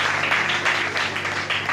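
A church congregation claps and cheers together in a steady, dense burst of applause during a lively French-language worship service, the clapping close and continuous throughout.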